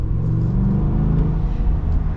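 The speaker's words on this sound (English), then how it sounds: "this V8's so fun" Deep, steady V8 rumble from a 2025 Ford F-350 single cab with the Godzilla engine, heard from inside as a continuous low drone under load, with no talking.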